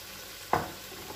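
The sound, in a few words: green chili pakoras frying in oil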